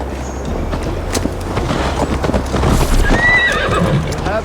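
Horses in Assassin's Creed Valhalla clip-clop close by and one gives a clear neigh as riders set off, the hooves loud and steady over the outdoor ambience.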